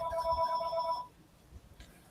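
A telephone ringtone sounds for about a second with a steady electronic tone, loud and close, then cuts off into quiet room noise during an NBA playoff predictions talk.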